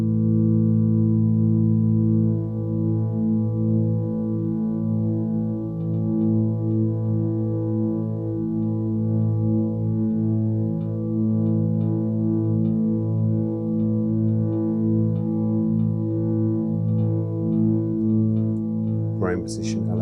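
Soma Cosmos effect processing a sustained tone with grain position noise added, a steady droning chord with shimmering grainy flutter that stays loud throughout, ending in a brief bright burst.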